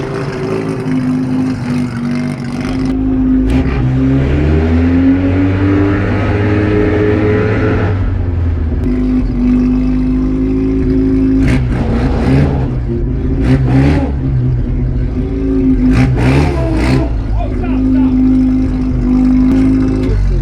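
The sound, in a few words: abandoned Mazda RX7 driving and revving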